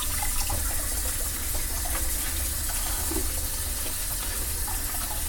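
Water runs steadily from a kitchen tap during a quick wash, a constant close gushing stream that holds the same level throughout without pauses.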